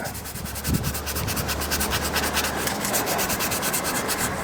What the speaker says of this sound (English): What you want to do is take your sandpaper and work that.